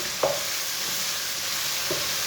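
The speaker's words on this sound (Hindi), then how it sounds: "बारीक कटा हुआ टमाटर डाल लेंगे। 2 मिनट तक भून लेंगे टमाटर को।" Finely chopped tomatoes frying in a pan, a steady hissing sizzle with two distinct spatula scrapes as they are stirred, close up and with no voices.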